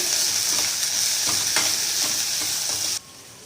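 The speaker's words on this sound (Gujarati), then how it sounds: "બરાબર હલાવી દઈશું, મિક્સ કરી દઈશું।" Finely chopped onion and green beans are stirred in a pan over a gas flame, a loud, constant sizzle with regular scraping strokes before the sound drops off abruptly near the end.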